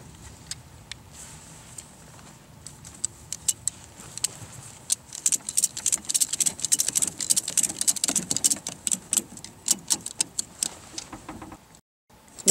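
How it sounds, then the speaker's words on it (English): A ratchet tensions a strap on RESCUE 42 Tele-Crib struts stabilizing a vehicle on its side, starting with scattered clicks that build into dense, rapid ratcheting bursts, close by, before a brief pause. "feed it through the ratchet, then ratchet this to tension the system and have it set to hold the load."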